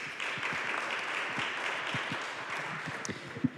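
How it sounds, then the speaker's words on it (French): Audience applause at an evening conference on cocaine trafficking through the Antilles, a steady wash of clapping from a crowd, moderately distant, with a few sharper individual claps standing out near the end. "Le tout sous applaudissements nourris"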